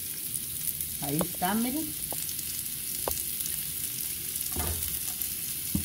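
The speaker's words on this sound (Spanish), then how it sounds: "le agregué medio chile verde y la cebollita blanca. Aquí se la voy a guisar." Half a green chile and chopped white onion frying in a pan give a soft, steady sizzle, with a few stirring scrapes and a brief spoken phrase over it.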